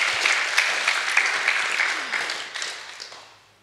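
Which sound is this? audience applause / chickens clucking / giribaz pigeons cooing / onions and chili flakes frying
audience applause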